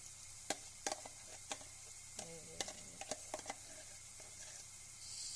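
Onions, tomato and pepper paste fry quietly in a pan, a faint hiss under scattered sharp taps and scrapes from a stirring utensil.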